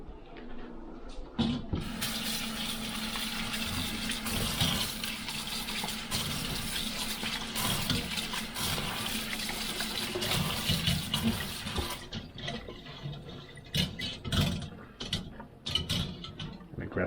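Tap water runs hard and steady for about ten seconds while vegetables are rinsed for a stir-fry, then cuts off, leaving a few brief splashes and drips at close range.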